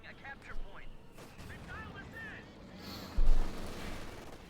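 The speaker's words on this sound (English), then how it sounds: "Machine gun firing away there from the Grenadiers." Grenadiers' machine gun in Company of Heroes 2, a Wehrmacht versus US Forces match, crackles in a dense, steady stream of battle noise, with a sharp louder burst near the end and an announcer voice running over it.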